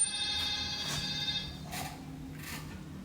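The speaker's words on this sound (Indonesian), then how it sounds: "Gue denger jelas banget ada suara telepon" A telephone rings inside a reportedly haunted pharmaceutical factory, heard as faint repeated high-pitched ring bursts against a quiet background.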